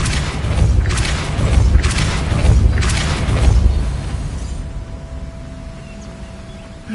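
The Depulso spell is cast in the video game Hogwarts Legacy, giving several deep, booming thumps with a rushing blast, loud and close, then fading to a quiet tail with no talk.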